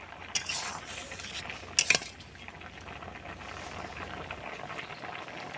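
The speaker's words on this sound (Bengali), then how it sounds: "চাপাটা খুলে দেখবো ডালটা কতটা সিদ্ধ হলো।" Metal lid lifted off a pot of simmering chana dal, a quick clink and clatter followed by a soft, steady bubbling hiss of the cooking lentils.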